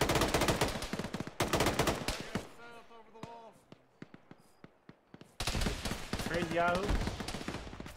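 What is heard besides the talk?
gunfire in a video game (Arma, ShackTac)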